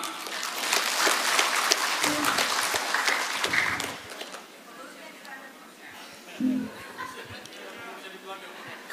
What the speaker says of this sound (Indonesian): Izin tepuk tangan.